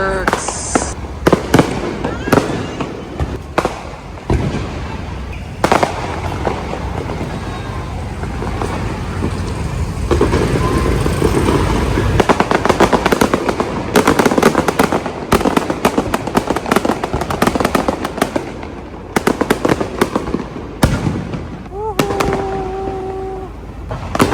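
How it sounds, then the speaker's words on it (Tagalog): Fireworks crack and boom continuously, loud and close, in dense irregular bursts, with people's voices and cheering mixed in underneath, at a birthday celebration in BGC, Philippines. "Fireworks!"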